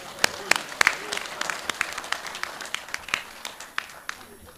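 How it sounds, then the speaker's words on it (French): Audience applause at an academic symposium honouring a professor, a thinning patter of individual claps at a moderate distance, uneven and sparse, with some murmuring in the room. "Je pense que cela mérite des applaudissements"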